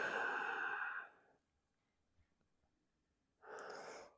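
A slow, deep exhale during a yoga cool-down, a soft airy breath that fades out, followed by silence and then the start of another breath.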